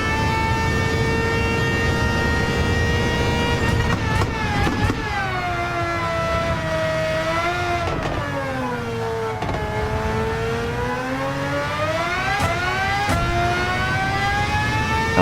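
Race car engines whine in a racing video game, sustained high-pitched engine tones rising and falling through gear changes, with several cars layered close together and no talking.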